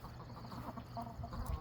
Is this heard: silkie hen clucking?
yes